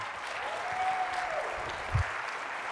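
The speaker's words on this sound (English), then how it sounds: "Let's have a round of applause for Jeff." Audience applause at the closing session of a young professionals summit, continuous clapping from a seated crowd, moderately loud and steady, with a faint voice briefly over it.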